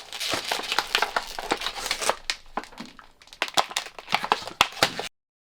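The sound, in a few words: plastic packaging being opened without scissors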